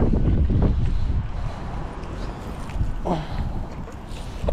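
Strong wind at sea buffets the microphone in a steady roar, with water sloshing and a fishing boat's hull faintly audible beneath; no talking.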